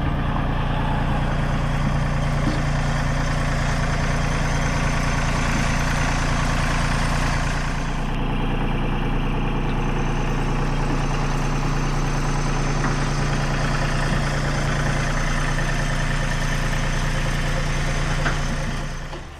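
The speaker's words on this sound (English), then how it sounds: "Now we have a big generator, and for the cabin we have a small one." A small generator powering an off-grid cabin in Willow, Alaska drones steadily and close by, with a constant low hum and a slight shift in tone partway through, and no voices.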